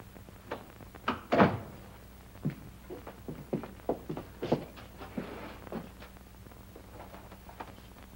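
Filing cabinet drawer handled as files are searched: a series of dull thunks and knocks, one louder bump near the start, then softer shuffling and tapping, fairly close, with no talk.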